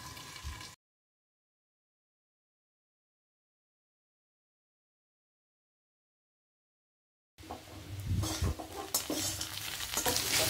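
Taro (arbi) bhujia cooks on a low flame in a pan, with soft sizzling and stirring scrapes at the start. After a long stretch of silence, louder clattering stirring returns.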